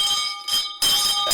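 A bell rings in bursts of a bright, piercing metallic tone, sounding twice with a short gap, close and loud with no voices.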